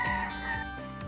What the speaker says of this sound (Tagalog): if naririnig nyo yung mga tilaok ng manok, uso yan sa probinsya